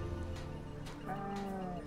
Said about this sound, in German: Da ist wieder ein Esel.